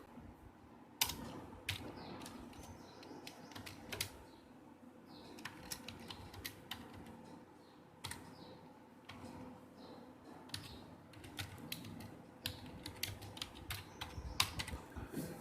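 Keys on a computer keyboard are tapped in quiet, irregular bursts of close clicks with short pauses between them, set against a faint background hum and with no one talking.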